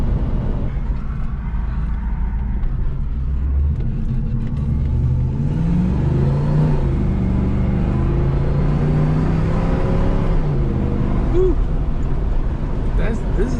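A 1984 Chevrolet Camaro Z28 with an exhaust manifold leak drives along, its engine rumbling steadily and rising in pitch as it accelerates and shifts gears, with the sound close and loud throughout.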